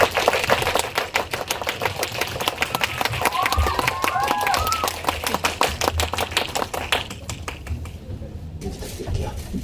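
Applause rises from an audience at an independent film screening at Arirang Cinema Center as a director and two actors walk in, a steady clatter of many hands lasting several seconds and then thinning out.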